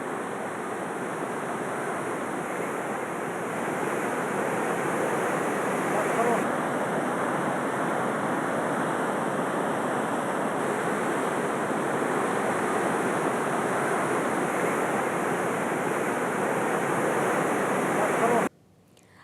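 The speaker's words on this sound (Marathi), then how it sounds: "पोपटखेडच्या भागातील पर्वतरांगांवरून वाहणारा हा ओढा" A swollen mountain stream flowing down the ranges near Popatkhed after heavy monsoon rain, a loud, unbroken rushing roar that holds steady before cutting off abruptly at the end.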